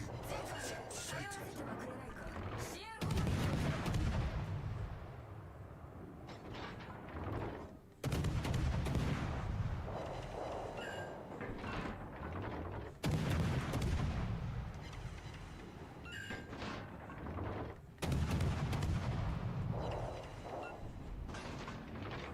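Battleship secondary guns fire in World of Warships: Legends, loud rumbling salvos repeating roughly every five seconds, each a heavy burst that trails off, with faint voices and game noise underneath.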